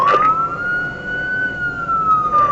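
Seattle Police car siren wailing loud and close, a single long rising-and-falling sweep that fills the whole stretch with no talk over it.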